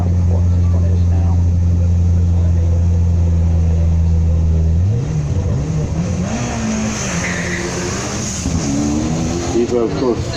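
Turbocharged four-wheel-drive Mitsubishi Evo rally car at a hillclimb, first idling with a steady low drone, then launching hard at about five seconds into a loud rising, gear-changing engine roar with some tyre noise.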